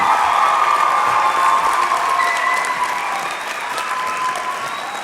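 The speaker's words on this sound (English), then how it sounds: "Ladies and gentlemen, a round of applause." A convocation crowd at a Humber College ceremony applauds the Practical Nursing graduates with steady, full clapping and a little cheering, holding strong throughout and easing slightly near the end.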